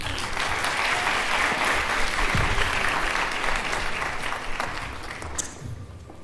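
An audience applauds after closing remarks at an evening event, a dense, sustained wash of clapping that gradually thins out toward the end.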